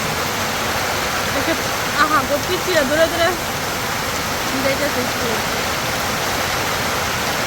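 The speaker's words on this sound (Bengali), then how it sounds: "অনেক জোরে বৃষ্টি নামছে" Heavy rain pours steadily in a garden outside a window during a sudden downpour, a dense continuous roar close by, with people briefly speaking over it.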